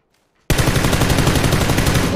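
Rapid automatic gunfire in a video game bursts in after a half-second of near silence, a loud continuous volley of close shots with no talking.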